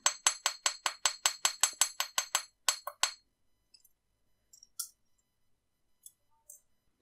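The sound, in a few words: small riveting hammer tapping wire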